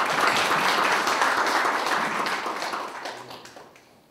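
An audience applauds at an opening ceremony of a Korean world ethnic conference, a dense burst of clapping that starts full and gradually fades over a few seconds, with no talking.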